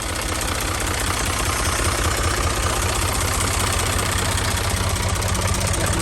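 A Renault tractor from the 421/361/301/461M series, fitted with power steering, idles after starting with a loud, steady, close engine rumble and a constant knocking throb, with no talk.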